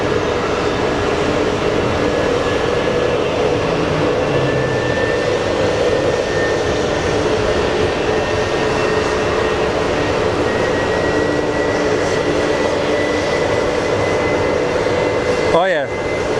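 An airliner landing at Phoenix Sky Harbor International Airport gives a steady, broad engine roar that holds at an even level throughout, with a brief swelling rush near the end.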